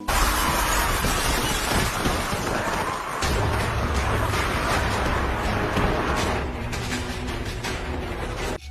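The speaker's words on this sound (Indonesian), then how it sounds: "Lihat jendela kaca hendak pecah." Glass window shattering amid a zombie horde attack, a loud, dense crash of breaking glass that fills the whole stretch, continuous and chaotic with heavy low rumble underneath and a brief dip partway through.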